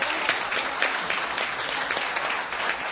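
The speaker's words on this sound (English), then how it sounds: "just want to stand up and give them a round of applause" A city council meeting audience gives steady, dense applause throughout, with many hands clapping at moderate volume in an indoor chamber.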